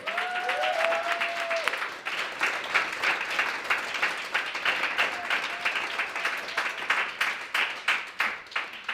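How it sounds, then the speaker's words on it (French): Applause at a community celebration, a steady patter of many hands clapping for several seconds, with a brief whistle or cheer near the start and the claps thinning toward the end. "Je pense qu'on peut la applaudir."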